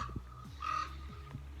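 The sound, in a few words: ravens squawking and cawing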